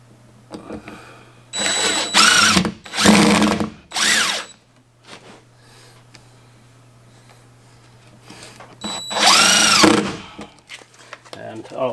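A power drill drives a screw into rotted wood being repaired with thickened epoxy, in several loud whirring bursts of a second or so with quiet gaps between, close to the microphone.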